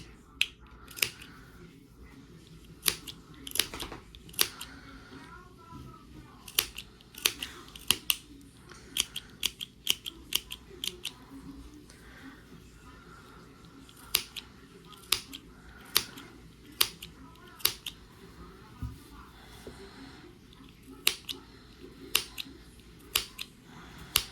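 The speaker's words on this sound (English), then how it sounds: "we're going to go through and trim the fringe we just sewed" Scissors snip through the fringe of a flannel rag quilt in quick, sharp, irregular cuts, close up and fairly quiet, repeating steadily throughout with no talking.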